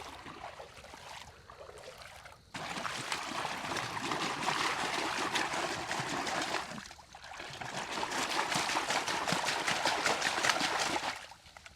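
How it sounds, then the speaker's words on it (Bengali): Freshly caught fish being washed by hand in water on a Sundarbans riverbank, steady close splashing and trickling that rises sharply after a quiet start and runs almost continuously, with a brief dip near the middle. "প্রথমে হচ্ছে এই মাছগুলোকে ওয়াশ করি"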